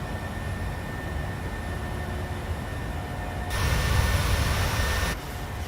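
A PMDG 737-800 departing Kuching in Malaysia in MSFS 2020: a steady, loud jet engine roar with a broad rumble that swells briefly toward the end, with no talking.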